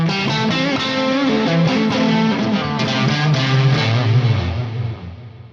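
An electric guitar plays a melodic line through a Fractal FM9 floor modeler with a dual delay set to a higher mix, notes trailing into repeating echoes and sustaining alone before fading out.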